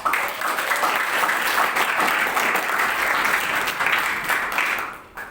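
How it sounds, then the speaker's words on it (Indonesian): An audience applauds at a formal university ceremony in Indonesia, with steady, dense clapping that holds for several seconds before tapering off at the end. "Kita beri tepuk tangan."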